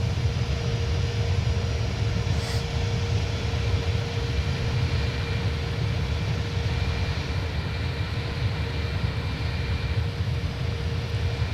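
Airbus airliner cruising in Microsoft Flight Simulator, a steady broadband engine and airflow rumble with a faint constant tone, unchanging and continuous throughout with no voices.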